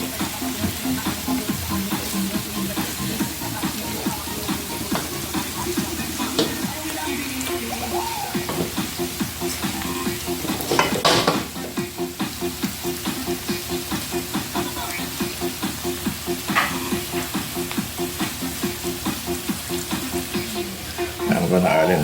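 Strip steak and vegetables frying in a pan for a Jamaican-style dish, a steady crackling sizzle throughout with occasional louder stirring scrapes, close and continuous.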